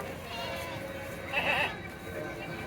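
A single short goat bleat rises midway over a quiet background hum at a goat and cattle market, fairly close and moderately loud.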